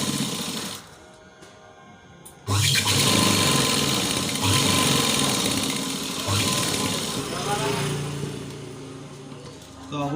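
A sewing machine stitches the seam of patiala pants, its motor whirring steadily and loudly after a quieter start, with brief changes in speed, while a voice is heard at times.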